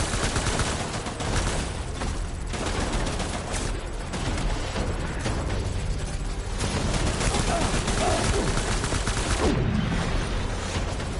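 Heavy gunfire from Death Stranding: sustained, overlapping bursts of rapid shots, loud and close throughout, with voices faintly underneath the barrage.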